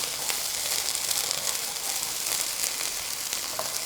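Paneer coated in yogurt fries on a high flame, giving off a steady, even sizzle with no talking.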